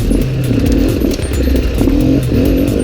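A Beta trials motorcycle engine riding over rough enduro terrain, a steady close buzzing drone with small throttle changes and clattering underneath, continuous and loud throughout.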